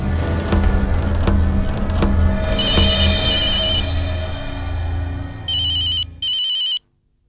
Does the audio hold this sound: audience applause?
no